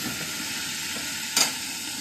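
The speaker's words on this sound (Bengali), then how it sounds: "চিকেনটাকে একটু নেড়ে ছেড়ে মিশিয়ে দিচ্ছি" Chicken sizzling with fried onions in a pan, a close, even hiss of hot oil with one brief louder scrape or pop partway through.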